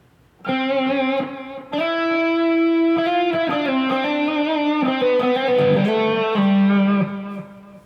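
Sustained electric guitar notes with a distorted tone and echoing repeats, several held chords and phrases ringing out, loud and close.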